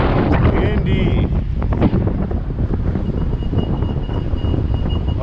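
Strong storm wind buffets the microphone outdoors in Oakland's Temescal area, a loud continuous roar and rumble with gusty swells that persists throughout, with brief faint voice fragments underneath.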